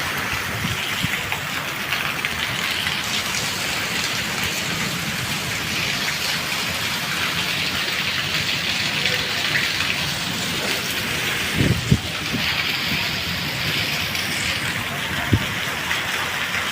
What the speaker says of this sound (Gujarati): વાવાઝોડું ચાલુ થયું